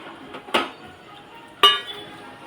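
A dish is handled in a home kitchen, making two sharp clinks about a second apart, close and clear over a quiet background with no talking.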